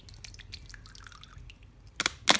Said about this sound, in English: I'll put all the water on it.